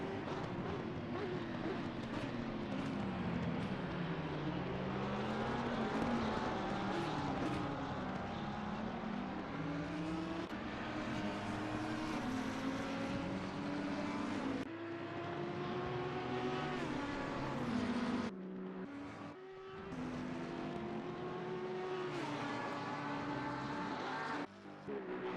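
Audi and McLaren race cars in an Xbox racing game at Spa, engines droning continuously with rising and falling pitch as gears shift, several cars close together, loud throughout with a brief dip near the end.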